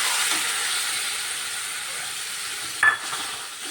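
Ground tomato goes into frying spices in a pan for a curry, making a continuous, close sizzle with a short sharp clatter and burst of spatter just before the end.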